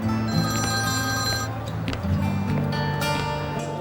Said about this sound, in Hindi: एक मिनट, मुझे फोन उठाना है।